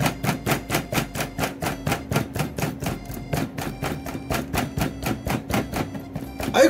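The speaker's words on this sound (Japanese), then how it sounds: "フォークなどで もう数箇所ズボズボっとね、穴を開けてください。" A fork pokes holes in pieces of raw chicken in a quick, regular series of soft thudding taps, about three per second. The hits are close and keep an even rhythm with no voices.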